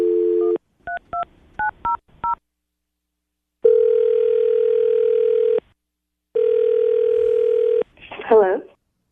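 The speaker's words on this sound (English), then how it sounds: "We'll call her right now. I'll get her on the phone." A telephone call being placed on a morning radio show: a string of short touch-tone dialing beeps, then two long ringback tones, followed by a brief voice as the line picks up.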